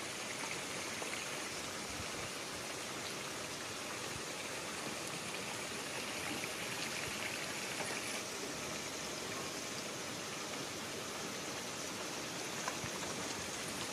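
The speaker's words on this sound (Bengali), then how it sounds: "ঝমঝমিয়ে বৃষ্টি এসে গেল বন্ধুরা" Heavy monsoon rain pours down in a steady, even downpour, a soft continuous wash of drops with no pauses, heard faintly from a distance and with no voices.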